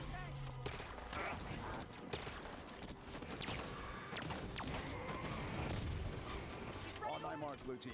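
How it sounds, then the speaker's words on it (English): Incineration cannon fire and combat in Halo 5: Guardians on Legendary difficulty, a dense, continuous barrage of blasts, mechanical clatter and impacts layered over game noise. "Dancing around incineration cannon shots."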